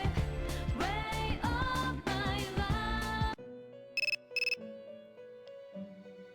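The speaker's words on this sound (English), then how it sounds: "Cell phone's ringing." In Persona 3 Portable, a cell phone rings in two short, bright double trills that cut in after game music stops, then gives way to quiet sustained tones.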